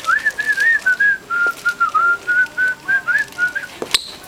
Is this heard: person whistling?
yes